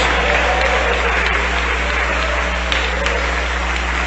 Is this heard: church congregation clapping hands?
yes